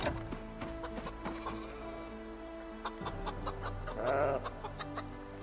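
Leghorn chickens in Project Zomboid cluck repeatedly at close range, short bursts over a steady game ambience, with one louder squawking flurry near the end.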